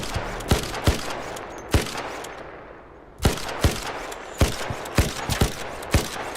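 Gunfire in the video game Arc Raiders: a rapid, uneven string of loud shots, some in quick bursts and some spaced apart, with a brief lull partway through.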